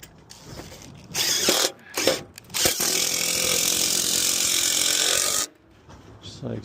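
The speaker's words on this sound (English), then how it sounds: "So I'll just pop a screw in the end here." Power drill driving a screw into the end of a seamless aluminum gutter, short whirring bursts followed by one sustained grinding whine that stops abruptly, close and fairly loud.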